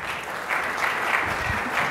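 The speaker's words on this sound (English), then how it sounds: "give a rousing round of applause to our panel today" A conference audience claps for a panel in a dense, steady wash of applause that runs evenly for a couple of seconds without pauses.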